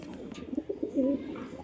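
A single hen pigeon gives one brief, low, burbling coo, quiet and close, with faint background hiss and no talking.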